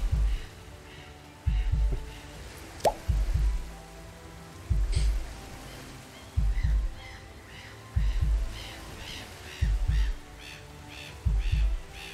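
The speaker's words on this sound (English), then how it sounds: "There's a heartbeat sound in the background when you get to a certain number of turns left." A heartbeat sound effect in the murder mystery RPG The Magister thumps in slow, regular double pulses, about a dozen beats low and steady in the background of quiet game ambience.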